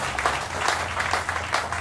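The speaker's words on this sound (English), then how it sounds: "I'll let you clap." Audience clapping at the opening of a county diversion center, moderate scattered handclaps heard fairly close for a couple of seconds against background room noise.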